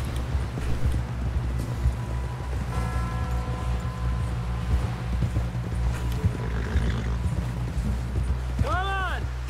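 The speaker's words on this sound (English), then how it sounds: "Someone help John down off this horse." Horse hooves clopping through a game scene from Red Dead Redemption 2, set on an approach to frontier buildings, under steady ambient noise and a musical score, with a whinny-like call near the end.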